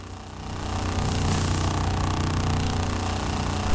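A drift-build Dodge Viper in Forza Horizon 4 gives off a heavy, gritty, tractor-like rumble, a dense continuous drone held at steady loudness throughout, close and alone.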